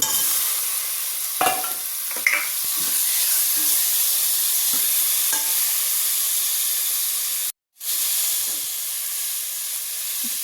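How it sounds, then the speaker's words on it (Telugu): Chopped green chillies, onions and tomato pieces sizzle loudly in a pan for a tomato curry, a dense continuous hiss with a few soft stirring knocks and one brief dropout near the end. "కట్ చేసుకున్న పచ్చిమిర్చి ఉల్లిపాయలు వేయాలి టమాటా ముక్కలు కూడా వేయాలి"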